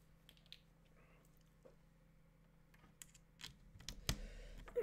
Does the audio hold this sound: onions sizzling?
no